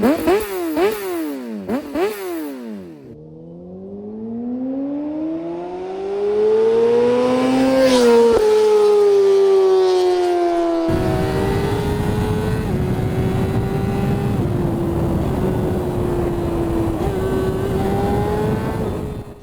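A Honda CBR600RR sport bike with full exhaust, aftermarket headers and an Akrapovic slip-on is revved hard in sharp blips, then climbs through the gears to a loud, high-pitched scream that carries on as the bike rides away.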